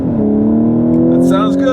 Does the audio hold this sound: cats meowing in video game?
no